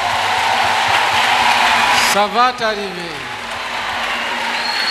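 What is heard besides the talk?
audience acclaiming Jesus Christ with cheers and applause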